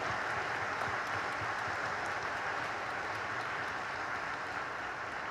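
A town hall audience in Oregon applauds the senator, a dense, steady wash of clapping that carries on at an even level for the whole stretch.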